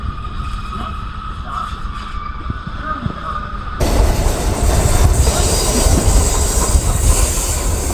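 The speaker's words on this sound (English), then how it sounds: "We had a 45-minute train ride up to the town of Grindelwald" Interior of a mountain train climbing toward Grindelwald, Switzerland, with a steady low rumble and rail noise that grows louder and rougher halfway through, as wheels clatter over the track, with no talking.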